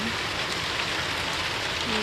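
Rain falls steadily outdoors around an elephant, a constant broadband hiss of drops striking surfaces, with a faint tonal murmur rising briefly near the end.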